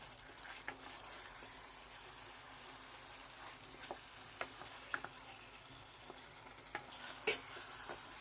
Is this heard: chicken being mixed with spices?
yes